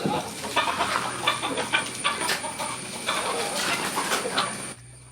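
Native country chickens cluck and squawk in a busy, overlapping chorus on a farm, close and fairly loud for about five seconds before dropping away abruptly near the end.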